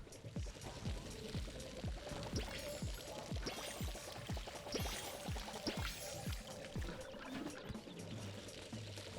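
Water pouring steadily from a watering can onto plants in a video game, a continuous splashing trickle with faint rhythmic clicks underneath and no talking.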